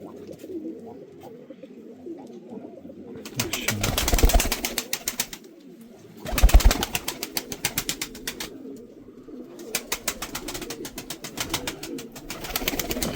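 Mardin pigeons coo in repeated bursts with a steady background murmur of birds, some calls loud and close, others softer.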